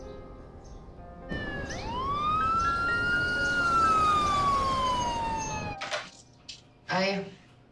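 A police car siren in a TV drama scene gives one long wail that rises sharply, holds, then slowly falls. Brief voices and sharp sounds follow once it cuts off.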